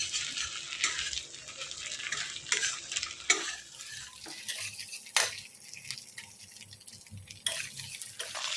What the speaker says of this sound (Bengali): এই দেখো কেমন তেলটা শুধু বেরোচ্ছে, দেখো এটা আরও ভাজা হবে সুন্দর হয়ে